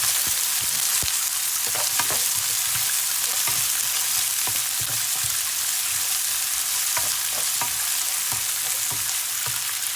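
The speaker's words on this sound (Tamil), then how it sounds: "வெங்காயத்தை கொட்டி கொஞ்சம் வதக்குறோம்." Onions fry in hot oil in a pan for a beetroot fry, a loud continuous sizzle with scattered crackles and occasional stirring scrapes, with no voices.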